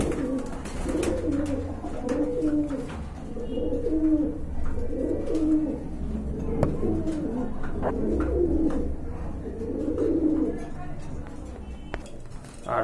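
A pair of teddy pigeons and others in a pigeon collection coo in repeated low, throaty phrases throughout, close and steady, with faint clicks and rustling in the background.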